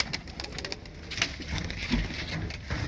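A pigeon coos softly a few times amid rustling and light background noise, fairly close by.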